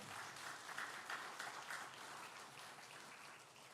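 Faint applause from a church congregation during a Sunday service, a soft, even patter of many hands that swells slightly at first and then tapers gently, heard from some distance.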